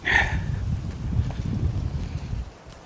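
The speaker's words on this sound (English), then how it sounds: "The wind's blowing my strap away." Wind gusting across an open prairie campsite during hammock setup, a low steady buffeting rumble against the microphone with a brief brighter rustle at the start, no voices.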